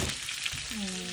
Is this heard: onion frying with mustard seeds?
yes